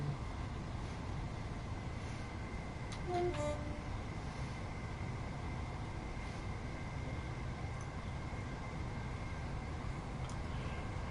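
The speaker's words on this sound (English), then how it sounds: "you get to hear the sound of the trains go zoom, zoom, zoom" Trains pass outside an open window with a continuous, moderately distant rumble of rail cars on track, a brief horn-like tone near the middle and faint whistle-like notes, no talking.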